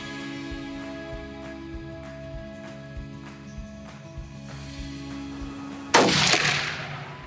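A single loud rifle shot during a deer hunt cracks out near the end, its report decaying over a second, after a steady low vehicle-like hum and faint rhythmic ticks.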